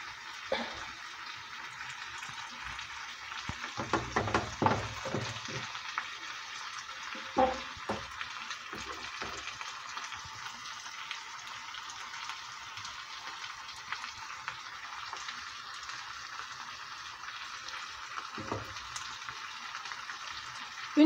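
Salmon cooking in a pan of thickened teriyaki sauce, giving a soft, steady sizzle and bubbling with occasional scraping stirs, close and fairly quiet, no talking.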